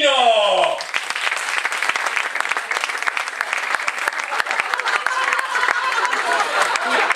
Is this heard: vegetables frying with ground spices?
no